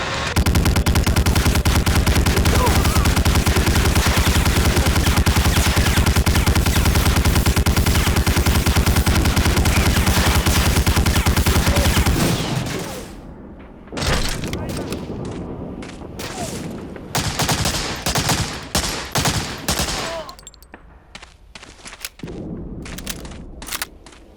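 Heavy gunfire in the shooter Medal of Honor Warchest: a long loud continuous machine-gun roar for about twelve seconds, then separate sharp shots and short bursts with brief gaps.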